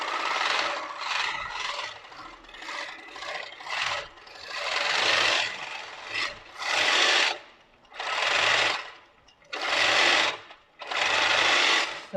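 A longarm quilting machine run by a Pro-Stitcher sews at 11 stitches per inch, its rapid whirring needle coming in repeated bursts of a second or two separated by short pauses.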